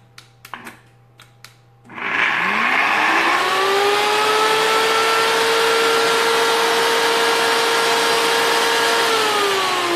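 After a few faint clicks and taps, a single-speed bullet blender switches on and runs as a steady, loud motor whir with a rising then constant pitch while making zucchini noodles with toppings, alone without speech.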